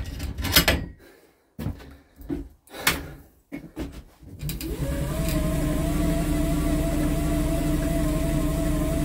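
Spin bike driving a generator with the weight on, settling after several thumps into a steady, loud mechanical whir with a rising hum that runs alone to the end.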